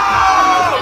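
A loud outdoor crowd at an NYPD National Night Out event on Staten Island boos and shouts at a speaker on stage, a dense sustained roar with no single voice standing out.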